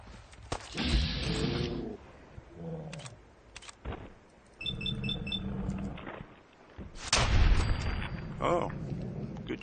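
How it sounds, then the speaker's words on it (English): Scattered gunshots ring out in Fallout 4 at the USAF Satellite Station Olivia, sharp isolated cracks spread across the stretch with a voice talking between and over them. "I hear somebody shooting."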